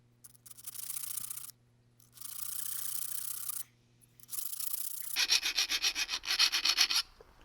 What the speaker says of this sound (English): Now we want to file a chamfer on each side for the weld to go in.